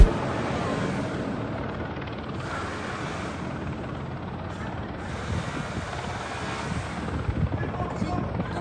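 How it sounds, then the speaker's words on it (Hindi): An Israeli attack helicopter flies with a steady rotor roar and wind rush that stays constant throughout, loud and fairly near, with no clear voices above it. "इजराइल अपने अटैक हेलीकॉप्टर को उड़ा रहा है"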